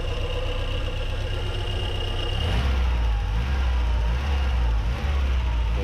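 A 1992 VW Golf 3 GL 1.6 engine idles loudly up close, then its pitch and throb shift as the throttle is blipped partway through, settling into a heavier, deeper running note, with no talk over it.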